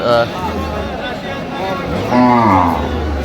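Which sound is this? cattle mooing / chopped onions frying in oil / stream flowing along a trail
cattle mooing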